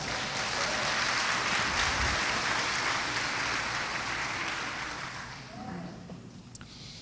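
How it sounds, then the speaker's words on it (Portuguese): Church congregation applauding the Lord during a Portuguese-language cathedral service, a full, dense burst of clapping that holds strong for several seconds, then thins and fades toward the end. "Você quer aplaudir ao Senhor por isso?"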